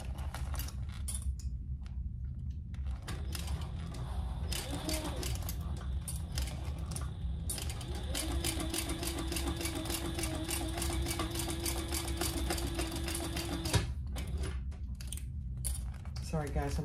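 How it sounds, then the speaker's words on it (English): Sewing machine stitching clear TPU vinyl for a toiletry cosmetic bag, a quiet rapid mechanical clatter in bursts with steady rhythmic ticking, faint TV or room sound underneath. "The machine makes a funny noise on jelly and clear and TPU."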